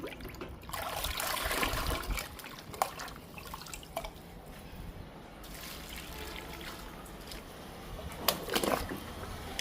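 Liquid made from lemon peels is poured onto indoor plants one at a time, a soft close trickle and dripping of water onto soil that comes in several short bursts with quiet gaps.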